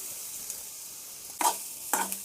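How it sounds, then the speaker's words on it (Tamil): Mustard seeds, curry leaves and small onions sizzling in a pan, a soft steady fry with two brief louder stirring scrapes, close and without talk. "தாளிக்கிறதுக்கு கடுகு கொஞ்சம் போடலாம், கருவேப்பில்லை, சின்ன வெங்காயம் நல்லா வணக்கியாச்சு"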